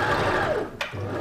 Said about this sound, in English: sewing the seam allowance away.